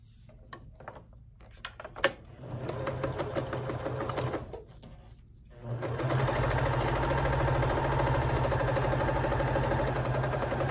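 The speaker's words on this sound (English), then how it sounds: "I'm going to sew up the other side." A sewing machine stitches up the side of a tote bag made from a placemat, starting with short stuttering bursts, then a brief pause, then a steady fast mechanical whirr running continuously, close and clear.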